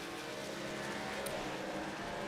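A race car engine in the iRacing video game at New Hampshire drones steadily at low revs in 4th gear, a deep laboring hum with no talk over it.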